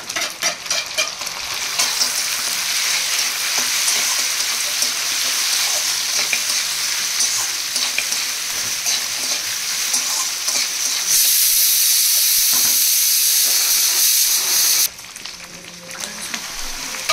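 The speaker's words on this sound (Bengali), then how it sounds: "এখন এখানে হচ্ছে মাটনটা কষা হবে।" Mutton sautés in a hot pan with a loud, steady sizzle and frequent scraping stirs, which brighten and intensify near the end; no one speaks.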